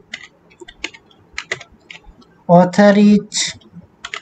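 Crisp keystrokes on a computer keyboard as HTML code is typed in short bursts, then a voice speaks briefly before a few more clicks.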